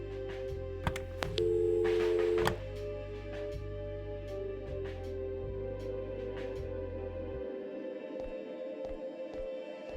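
Telephone tones in the Kathy Rain video game, faint repeated beeping pulses with a short sustained tone early on, heard alone.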